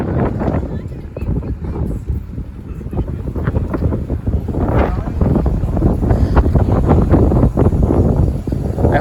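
Strong wind buffets the microphone on a city street, Danforth Avenue in Toronto, roaring loud and continuous with gusts building toward the end, while someone speaks over it.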